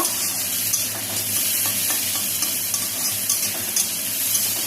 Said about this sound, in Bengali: টমেটো পেঁয়াজ কুচিগুলি দিয়ে দিলাম, এগুলি লাল লাল করে ভেজে নেব